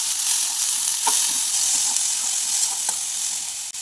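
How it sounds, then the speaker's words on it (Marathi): Ivy gourd (tondli) with red chili powder and spices hisses steadily in a hot pan, with a few light spoon clicks as it is mixed, near and fairly loud, with no talking. "तोंडले धुवून घेतलेले तर ते पण टाकून घ्यायचं छान मिक्स करून घ्यायचं"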